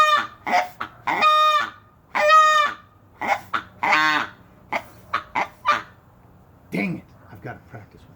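A handheld goose call blown outdoors gives a run of loud, close honks in short uneven bursts, some doubled, with brief pauses between, imitating a goose.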